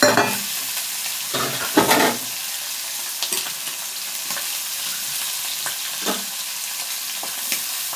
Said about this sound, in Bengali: তেলটা আমার গরম হয়ে গেছে, মাছগুলো ছেড়ে দিই।